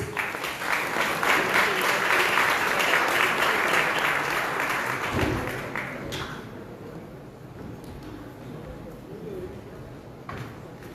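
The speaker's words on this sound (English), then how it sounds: "A big round of applause, please." An audience applauds at the inaugural event of the Goa Open Innovation Challenge 2025, a dense round of clapping that holds loud for about five seconds and then thins and fades into scattered claps and room noise.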